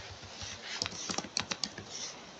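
A URL is typed on a computer keyboard, a quiet run of uneven key clicks close by, with no talking.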